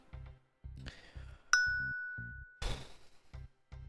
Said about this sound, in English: I got a text message